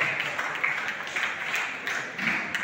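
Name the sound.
audience clapping at a felicitation ceremony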